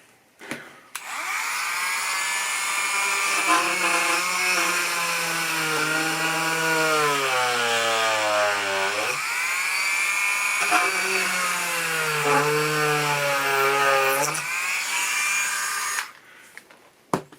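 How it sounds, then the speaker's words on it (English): A power drill whines steadily while drilling a pilot hole in a melodeon's bass end, its pitch sliding down and up as it bores in, pausing briefly midway, then stopping. "drill a pilot hole"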